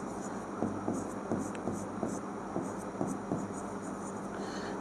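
Someone writes on a board during a chemistry lecture, producing quiet, close, rhythmic short strokes and taps over a faint hum.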